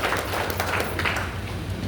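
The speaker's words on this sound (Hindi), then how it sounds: "एक बार जोरदार तालियां" Audience at a seminar in Dholpur claps loudly and steadily, a dense wash of hand claps sustained at even volume throughout.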